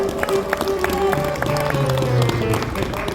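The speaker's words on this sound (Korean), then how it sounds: "우리 박수로 환영하겠습니다" A crowd of elderly guests at a free community meal in Maseok, Namyangju, claps to welcome the city mayor, a dense steady patter of hands lasting several seconds over a sustained tonal backing.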